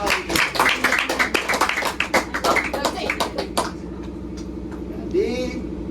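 A classroom of children claps hands together, a brisk patter of many close claps, then the clapping stops and quieter murmuring remains.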